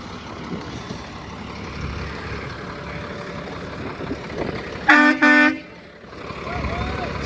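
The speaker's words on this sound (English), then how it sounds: "See, the air horn works good." The air horn on a GMC C-7500 single-axle grain truck gives one loud, close blast lasting under a second. It rises above the idling engine and background noise, and the rumble carries on afterward.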